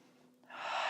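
A single sharp breath drawn in through the nose during a yoga session, starting soft and swelling into a loud, airy inhale that lasts about half a second, close to the microphone with no talking.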